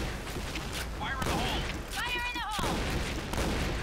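Bursts of shotgun fire in the game Point Blank, loud shots cutting through steady talk, with a brief electronic warbling tone in the middle.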